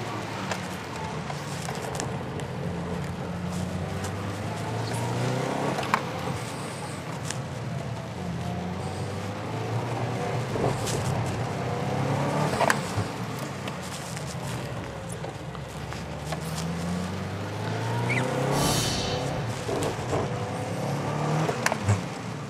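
A Subaru WRX STI GDB is driven around pylons on a course; the engine note rises and falls as the car accelerates and slows between cones, heard at a moderate distance with steady road and wind noise.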